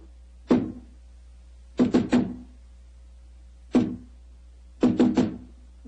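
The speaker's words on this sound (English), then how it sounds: "Who knocks?" Knocks land on a solid door in a radio-drama sound effect: one rap, then a quick triple, another single and a final triple, crisp and close with quiet gaps between.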